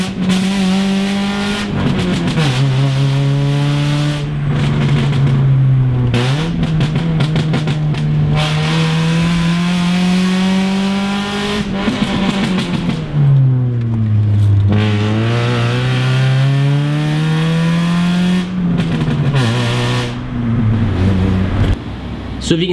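A car engine revs through downshifts on a car fitted with ceramic-coated exhaust headers, heard from inside with the windows up, its loud continuous drone sweeping up and down in pitch several times.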